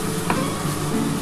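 Water poured into cooked masala frying in a pan, producing a loud, steady sizzle and bubbling hiss with faint stirring, close up and without speech.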